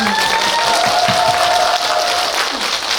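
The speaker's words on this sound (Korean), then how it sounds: "박수 한번 좀 부탁드리겠습니다." Applause from an audience at a film Q&A screening, loud continuous clapping with crowd noise throughout, over a faint tone and some low murmuring.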